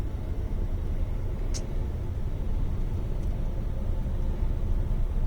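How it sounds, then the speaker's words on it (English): Steady road traffic rumbles past close beside a parked truck on a quiet Saskatchewan highway, a continuous broad roar of passing vehicles with no talk. "Bit of traffic coming up beside me here now"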